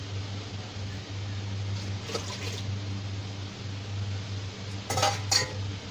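Ingredients for a Chinese-style lotus root soup go into a soup pot, with a few light metallic clinks of utensils near the end over a steady low hum.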